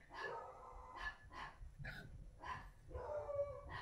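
Several dogs barking in bursts, about five separate volleys spread across a few seconds, moderately loud and somewhat distant, with no talking.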